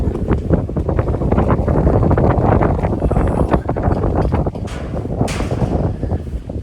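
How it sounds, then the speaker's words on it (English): Strong gusts of wind buffet the microphone at a high island overlook, a loud, continuous rumbling roar with no voices. "It's windy."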